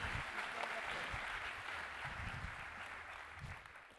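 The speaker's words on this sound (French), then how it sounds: "Merci de l'applaudir." Steady clapping from a crowd, continuous and fairly even throughout, with no voices standing out.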